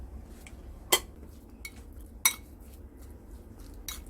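A utensil clinks sharply against a bowl twice, with fainter taps between, while marinated pork ribs in miso paste, dark soy sauce and sugar are mixed. A soft scraping bed sits underneath.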